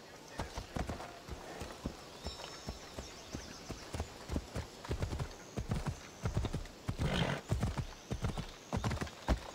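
Horse hooves clip-clop in a steady galloping rhythm in Assassin's Creed Odyssey, loud and close, with occasional whinnies and a brief electronic tone, while voices speak over the hoofbeats.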